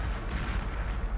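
Explosions in a Perfect Dark game cutscene, a dense continuous roar of deep rumbling blasts with no gaps, loud and close.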